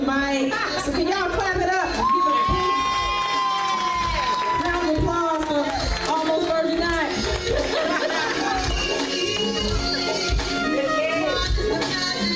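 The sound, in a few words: audience applause and cheering for a poet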